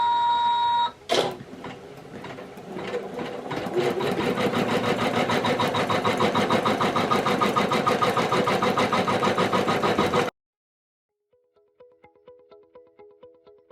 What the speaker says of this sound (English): first of all we're going to do our placement stitch